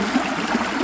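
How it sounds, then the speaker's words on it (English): Steady rushing flow of a fairly strong stream of water spilling under an old beaver dam in a mountain forest, close and continuous with no voices. "a pretty solid stream of water"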